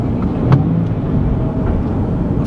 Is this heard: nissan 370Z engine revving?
yes